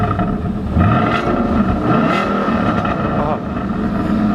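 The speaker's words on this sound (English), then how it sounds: "Let me rev it a little bit just so you can hear some of that V8 music." A 2013 Ford Mustang Boss 302 V8 engine revs loudly and continuously, its deep rumble rising and falling in pitch, with some voices faintly underneath.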